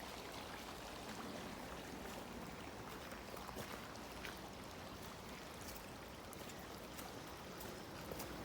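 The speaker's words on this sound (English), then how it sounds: "Just the sound of a nice bubbling stream." A small bubbling stream trickles and gurgles continuously, faint and steady outdoors on a countryside walking trail, with no voices.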